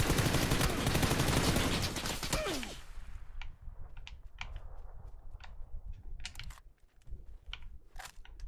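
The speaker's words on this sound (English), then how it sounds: "I wait for some gunfire and go on the gunfire." Dense, loud gunfire in the video game PUBG, a sustained burst of rapid shots that breaks off into scattered single cracks and short volleys, some sharp and near, others more distant.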